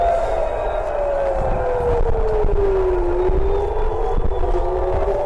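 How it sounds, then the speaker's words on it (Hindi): An air raid siren in Israel wails steadily during an Iranian attack, its tone slowly falling then rising again, over a constant low rumble of background noise. "आप जरा इन सायरन की आवाज को सुनिए"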